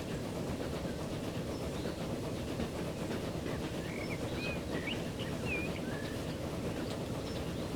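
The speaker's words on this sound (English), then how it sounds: "I'm just gonna ride the train." Train rolling along in Transport Fever on the Fraser Valley map, a steady dense rumble with faint clatter filling the whole stretch, birds chirping lightly above it.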